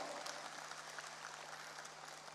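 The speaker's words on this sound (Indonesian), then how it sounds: "Tepuk tangan untuk Bapak Balela Hadalia" Applause from a crowd at a volunteer declaration rally for Bahlil Lahadalia. It is a steady, fairly distant wash of clapping, heard on its own for a couple of seconds.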